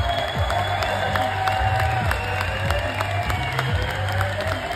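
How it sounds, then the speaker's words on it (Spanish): Crowd at a wrestling event applauding and cheering a retiring wrestler at his last match, a steady wash of clapping and scattered whoops from a large audience heard continuously without pause. "Esta es su última lucha y les pido un aplauso para él."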